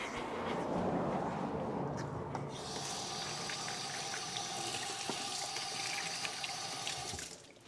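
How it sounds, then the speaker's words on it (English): Water runs steadily from a kitchen tap as hands are washed beneath it, a close, continuous splashing that shifts in tone partway through as the hands move under the stream, then cuts off at the end. "So let me wash my hands."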